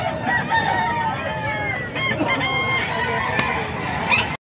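A rooster crows loudly and repeatedly nearby, with other chickens clucking in a busy, crowded background at a gamefowl market.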